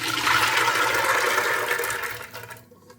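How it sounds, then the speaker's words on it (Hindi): A loud, steady rush of water poured into a pressure cooker for a couple of seconds, then it stops abruptly and goes quiet. "पानी जो है मैं इतना ही डालूँगी जितने में वो गल जाए।"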